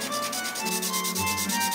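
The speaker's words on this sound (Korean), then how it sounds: "자, 사포로 갑니다." Sandpaper rubbing steadily against a part while fitting a Dokkaebi-gureum (double) motor into a high-speed mini 4WD car, a close, continuous rasping scrape with a repeating back-and-forth rhythm and no voices.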